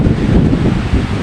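Strong typhoon wind battering Rizal, a dense, steady low roar pressing hard against the microphone throughout, loud and close, with no voices.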